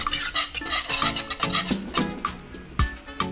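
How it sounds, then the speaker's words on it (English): Vanilla extract being whisked into homemade banana pudding in a pot, with quick, rhythmic clinks and scrapes of the whisk against the pot, close and continuous, no talking. "And then you just want to whisk that in."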